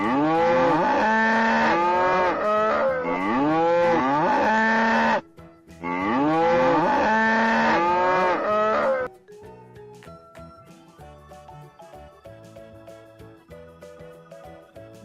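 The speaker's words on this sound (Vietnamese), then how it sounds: "Con bò. Con bò." Two long, loud cow moos follow each other alone, then a light tinkling children's tune takes over.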